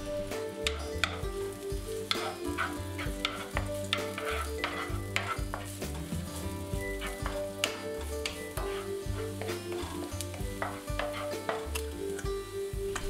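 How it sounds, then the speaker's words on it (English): Minced garlic and shallot are stir-fried in vegetable oil in a large frying pan: a steady sizzle under repeated rhythmic clanks and scrapes of a utensil against the pan, close and busy throughout. "Then stir 1 tablespoon minced garlic and minced shallot until fragrant"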